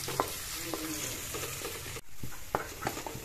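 Garlic and bay leaves fry in a pan for a pumpkin curry made without onions, with a steady close sizzle broken by a few scattered stirring taps and one brief dip. No one speaks.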